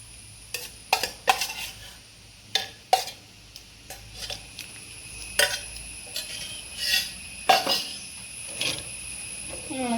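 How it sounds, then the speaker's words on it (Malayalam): Ivy gourd curry stirred in a metal pan with a spoon, giving a string of sharp clinks and scrapes against the pan over a faint simmer, close and steady with no voices. "ഇളക്കി കൊടുക്കാം"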